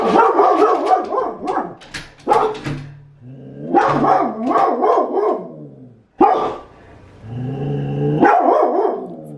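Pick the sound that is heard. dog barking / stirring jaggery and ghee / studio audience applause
dog barking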